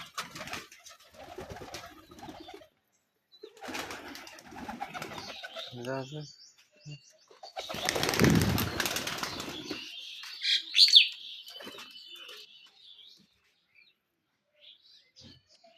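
Pigeons at a small farm flutter and flap their wings in loud bursts, with soft coos and chirps between, while a person talks intermittently nearby.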